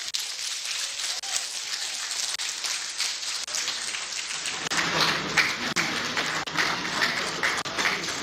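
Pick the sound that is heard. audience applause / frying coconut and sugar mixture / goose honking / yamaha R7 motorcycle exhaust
audience applause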